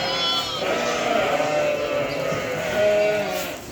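A sheep with a sore udder bleats in long, wavering cries at close range, loud and continuous, with other bleating livestock in the background.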